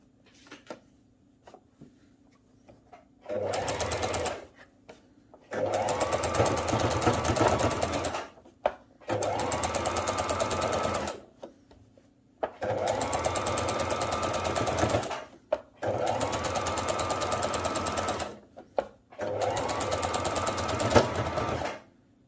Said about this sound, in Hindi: ऐसे पलटेंगे तो इसके ऊपर भी एक सिलाई लगा लेंगे